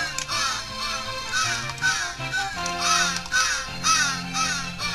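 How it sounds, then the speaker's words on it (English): Harsh cawing from a bird on the video game Santa Claus in Trouble's end screen, a run of rapid crow-like calls repeating over steady game music, loud and up front. "why does there have to be a bird on the end screen just to piss me off?"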